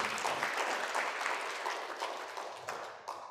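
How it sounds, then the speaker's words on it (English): Applause from a national conference audience in Kaduna greets a keynote speaker, a dense patter of many hands that gradually thins and fades toward the end. "Please round of applause for him."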